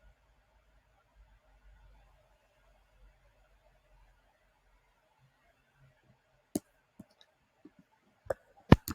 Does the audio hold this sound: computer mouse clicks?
yes